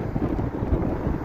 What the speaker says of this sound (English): it's going to be very windy, very loud